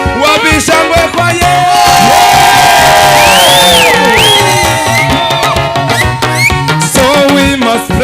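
A church congregation at a live Sunday service cheers and shouts loudly over lively praise music with a strong beat and singing, a dense, sustained roar throughout.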